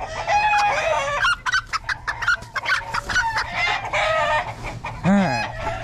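A frightened chicken on a dairy farm clucks and squawks loudly and close up while being freed, with rapid agitated calls and a sharper squawk near the end.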